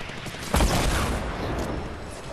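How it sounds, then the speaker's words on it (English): Fortnite light machine gun fire erupts in a dense burst of rapid shots, loud and close, then trails off into a noisy rumble. "Don't you love that light machine gun made by me?"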